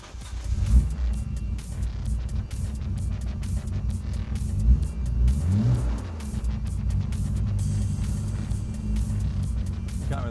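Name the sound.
Nissan GT-R engine first startup and revving, E85 with Haltech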